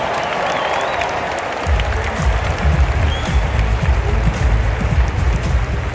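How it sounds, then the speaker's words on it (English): Audience applause fills a large arena during the live Grammys 2022 broadcast, a steady wash of many hands clapping that swells louder and denser after the first couple of seconds, with crowd noise beneath. "and applause, applause, please."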